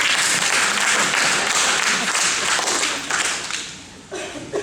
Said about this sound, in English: Let's get a welfare queen a round of applause